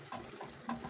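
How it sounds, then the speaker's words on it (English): Beef liver coated with seasoning and dark soy sauce is stirred in a pan, with a brief soft scrape and faint sizzle, quiet and close. "Then stir it in until every piece is well coated in that rich flavor."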